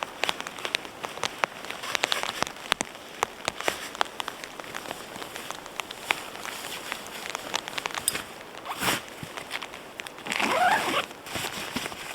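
Steady rain patters close by at a campsite with scattered heavier drops clicking on a surface, plus a brief rustle of clothing near the end.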